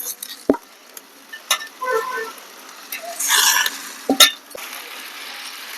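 A spoon stirs sorrel leaves into cauliflower curry frying in oil in a pan, with soft scraping and sizzling broken by a few sharp clanks of the utensil against the pan.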